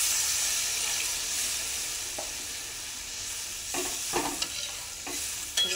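Masala with ground tomato sizzling hard in a pan for fish curry, a dense steady hiss that softens as water goes in, followed by several stirring scrapes and clinks nearby.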